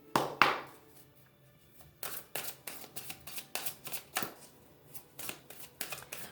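Tarot cards are handled and laid down in a steady series of crisp slaps and flicks, close by, after a brief rustle at the start with no talking.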